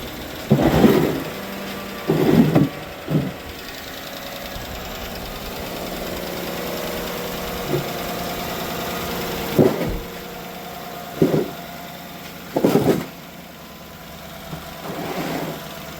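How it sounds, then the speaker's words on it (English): A replacement engine in a GMC Sierra 1500 pickup idles with a steady, close rumble and a faint ticking from the lifters, broken by several short louder knocks or bursts. "The lifters sound like they tick."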